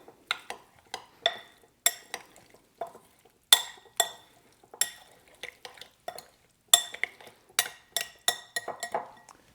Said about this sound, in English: Give that a big stir to mix everything together.